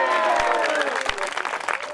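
An audience applauds at a comic Hindi poetry performance at Khedapati temple, with a brief burst of clapping overlapping a voice speaking.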